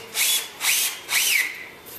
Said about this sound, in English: I just prefer to throw a couple of McFeely's 1 3/8 inch sawtooth screws in here.